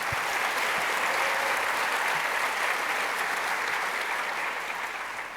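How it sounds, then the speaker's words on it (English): An audience at a university lecture series gives a dense, sustained round of applause for the evening's speakers, loud and even for about five seconds before beginning to taper at the end. "join me in giving a round of applause to all of our speakers for tonight"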